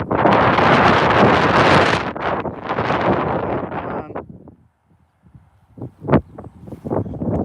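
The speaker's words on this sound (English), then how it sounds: "I wish that wind would die down." Strong wind buffeting a microphone outdoors while rockhounding in southern Florida, a loud roaring rush that gusts, drops to near quiet, then returns in shorter bursts, with no voices.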